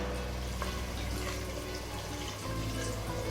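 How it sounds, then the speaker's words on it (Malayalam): Half a cup of coconut milk poured into a Kerala-style Kuttanadan duck roast in the pan, a soft continuous liquid trickle and splash, close and fairly quiet. "ഇനി ഇതിലേക്ക് നമ്മൾ തേങ്ങാപ്പാൽ ചേർക്കുകയാണ്."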